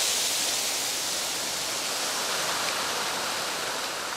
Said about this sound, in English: the intensity and power of this water that's coursing through the veins of this garden